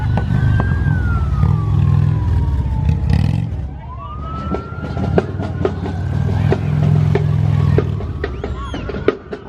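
A police siren wails and sweeps up and down during a street parade, loud and fairly near, layered over the low rumble of revving vehicle engines that swells and fades.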